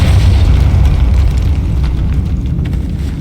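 A Depulso force spell in Hogwarts Legacy, set in a catacomb, lands as a loud, rumbling blast that fills the whole moment and slowly fades without any talk.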